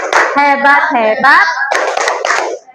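A classroom group performs a clapping cheer, with several rhythmic hand claps under loud children's chanting voices; the claps are close and bright and fall in a short, even pattern.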